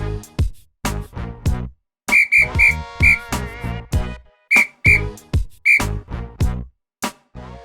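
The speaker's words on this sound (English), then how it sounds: "and with that kick from Danny, the ref blows his whistle." A referee's whistle at an amateur Saturday football match between SummersAFC and Tansley FC, sounding as a rapid series of short, sharp, close blasts in a rhythmic run over several seconds.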